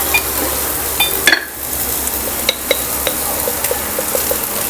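Poha upma with finely chopped ginger and salt being stirred in a pan, a low frying hiss broken by a scattered series of light scrapes and clinks from the spoon.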